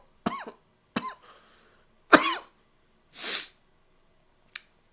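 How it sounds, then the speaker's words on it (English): A burst of harsh, intense coughing, several sharp explosive hacks spaced over a few seconds followed by a breathy snort and a final short cough, all close and unaccompanied by speech. "That was an intense cough."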